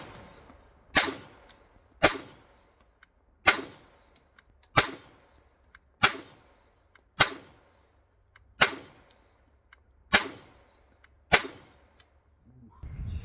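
Nine sharp gunshots fired at a target by a right-handed shooter using an Aimwin PN330 open reflex red dot sight, evenly spaced about every one to one and a half seconds, loud and close with short decaying tails and no talking.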